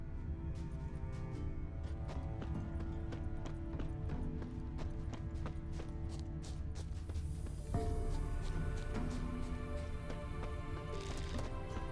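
A horse-drawn merchant's wagon with heavy wheels rolls along in The Witcher 3, its horse hooves clip-clopping in a steady rhythm over a constant rumble, with a brief whinny and a louder rattle partway through.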